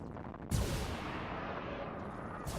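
A Nova cannon firing in Battlefleet Gothic Armada II, one deep heavy boom that rolls into a long, loud rumble.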